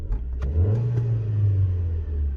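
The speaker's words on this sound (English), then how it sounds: "if I just rev the engine" A car engine in a repair garage is revved once during a fault diagnosis, rising into a steady, loud mid-pitched drone that holds for about two seconds after a few clicks.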